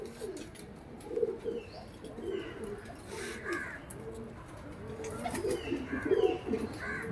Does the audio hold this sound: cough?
no